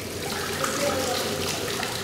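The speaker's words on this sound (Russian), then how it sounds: "Врач готовит сероводородную ванну." Water pours steadily into a hydrogen sulfide medicinal bath, a continuous rushing splash heard close and alone for the whole stretch.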